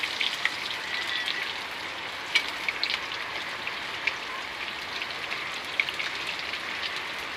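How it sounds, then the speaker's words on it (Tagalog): Heavy rain pouring down, a steady dense hiss of drops striking surfaces with occasional sharper splats, continuous and fairly loud with no voices. "Lakas ang ulan"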